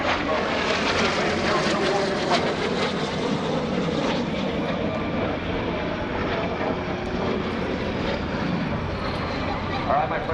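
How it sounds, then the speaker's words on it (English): Two L-39 jet trainers flying at a naval air station airshow, a loud sustained jet roar with engine rumble across the whole stretch and a commentator talking over it. "Those are L-39 jet-built L-39 training and attack aircraft."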